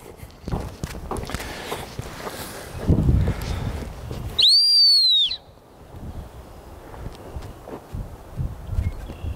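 A single sharp, high dog training whistle blast rising then falling, cueing a gun dog to sit, sounding outdoors over soft rustling and footsteps.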